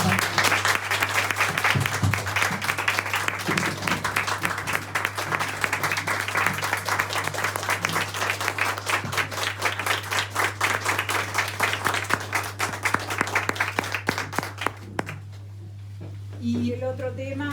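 A crowd at an anniversary tribute event for a political committee breaks into sustained, dense applause nearby, clapping steadily for about fifteen seconds before thinning out, with a low hum underneath.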